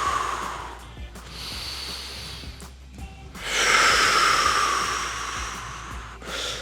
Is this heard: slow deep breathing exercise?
yes